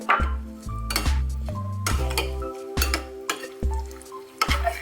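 Spoon stirring and tossing canned sardine salad in tomato sauce with sliced lemongrass, shallots, spring onion and parsley in a bowl, a series of close, fairly loud scraping and clinking strokes with short pauses between them.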